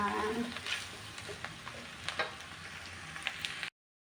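Fermented pork sausage, vegetables and rice stir-fry in a pan, giving a close, crackling sizzle with repeated scraping and tapping strokes of the spatula before the sound cuts off abruptly.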